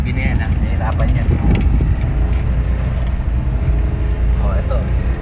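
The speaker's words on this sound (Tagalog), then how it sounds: "So yung motor nga nahihirapan eh." A motorcycle engine labors up a steep slope, a loud, steady low rumble with wind buffeting the microphone, while a person talks over it.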